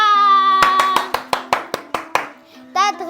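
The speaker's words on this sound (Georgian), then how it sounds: "და დღეს ტაში მეგობრებო" A group claps hands in about eight sharp, evenly spaced claps following sustained singing, close and loud, with voices returning briefly at the end.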